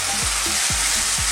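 Lamb with rosemary sizzles steadily in a hot pan while being stirred, a loud continuous frying hiss broken by a few low scraping strokes of the stirring utensil, with no talking.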